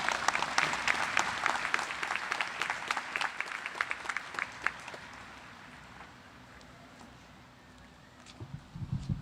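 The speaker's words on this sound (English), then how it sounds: "I want you all to join me in extending another round of applause for our provost, Dr. Mira Kumbraju" An indoor audience at an honors convocation gives a round of applause, dense clapping that is loud at first and thins out to scattered claps and quiet, with a few late claps near the end.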